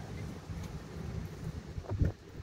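Gusty wind buffets the microphone outdoors on a very windy, wet day, a low rumbling roar that swells and dips, with a stronger blast near the end.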